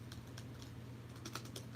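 Quick, faint key clicks tap on a worn ThinkPad T410 laptop keyboard in a rapid irregular rhythm over a low hum.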